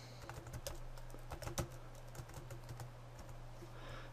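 Keystrokes on a computer keyboard as code is typed for an object-oriented programming lesson, a quick irregular run of close, soft clicks over a steady low hum, with one louder tap midway and no talking.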